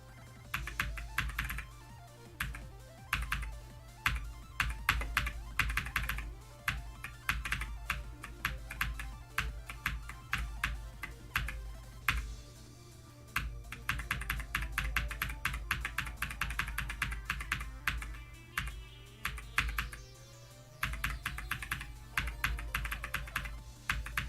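Steady clicky keystrokes from a mechanical keyboard with blue switches, rapid and continuous across the whole stretch with a few short pauses, close and fairly loud, with no talking.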